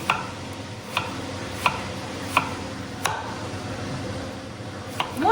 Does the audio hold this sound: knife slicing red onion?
yes